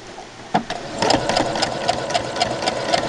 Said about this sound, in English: Okay, so I'm putting this through my sewing machine.